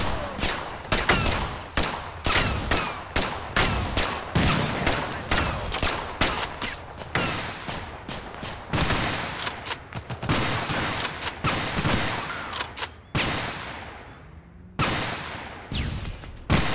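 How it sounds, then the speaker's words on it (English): Dense automatic weapon fire rattles in bursts nearly nonstop in the video game Total Conflict: Resistance, loud and close, with brief pauses and a trailing echo near the end. "Oh, we got automatic weapons coming in."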